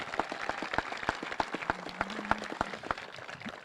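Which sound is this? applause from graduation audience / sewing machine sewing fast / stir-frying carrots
applause from graduation audience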